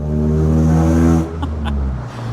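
A Mk5 Ford Fiesta Zetec S with a 1.7-litre Puma engine revs up loudly and close, a strong droning hum that dips partway through before easing back in.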